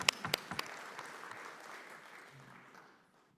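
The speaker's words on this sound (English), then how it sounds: "Let's do applause." Applause from attendees at a community meeting, opening with a few sharp individual claps and settling into a soft, diffuse patter that fades out over a few seconds.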